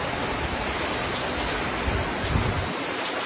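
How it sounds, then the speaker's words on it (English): Heavy drizzle falling in a rainstorm in Belize, a steady, dense hiss of rain close around with no voices, unbroken for the whole stretch. "It's a little heavy drizzle."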